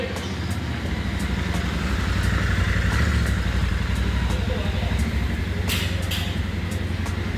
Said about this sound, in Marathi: सर्व्हिसून आली आपली बाईक.